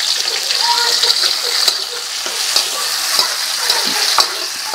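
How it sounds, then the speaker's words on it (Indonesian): Garlic and orange chili stir-frying for bean sprouts, a loud, close, steady sizzle with scraping stirs and small splatters running throughout. "Sekarang aku mau masak tumis togenya pakai bawang putih sama cabai oranye aja. Kita tumis sampai harum."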